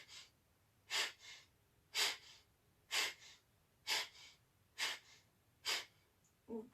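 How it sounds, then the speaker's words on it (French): Alternate-nostril breathing exercise, with six slow, evenly spaced breaths through the nose, each a soft airy inhale followed by a fainter exhale. The breaths are close and quiet and come at a steady, unhurried rhythm with no talk. "Inspire d'un côté, expire, inspire de l'autre côté."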